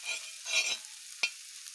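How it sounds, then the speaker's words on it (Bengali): Arum leaves frying in a pan with ground roasted cumin stirred in, heard as two short scraping stirs followed by a single sharp tap, close and fairly quiet. "কচুর শাকগুলো আমার ভাজা প্রায় হয়ে এসেছে এবার আমি এখানে ভাজা জিরের গুঁড়োগুলোকে দিয়ে দেব"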